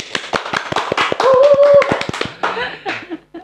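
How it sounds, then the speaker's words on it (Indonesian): Small group of people clapping in a podcast studio, a burst of quick, crisp, close claps that thins out and stops, with some brief voices and laughter mixed in. "Tepuk tangan dong."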